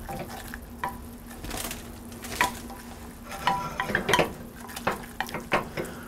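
A roux stirred in a pan, with soft sizzling and a series of sharp scraping strokes and clinks of the utensil against the pan, irregular and growing more frequent toward the end.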